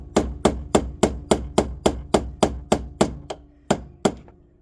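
A hammer strikes a wedge driven into a BMW E30 325i steering joint in about a dozen sharp metallic blows, evenly paced at first and then slowing with gaps near the end, close and loud.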